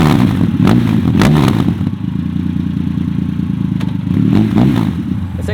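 A Triumph Rocket 2.5 litre muscle cruiser idles nearby through a works exhaust, giving a loud, continuous low rumble with a few brief throttle blips.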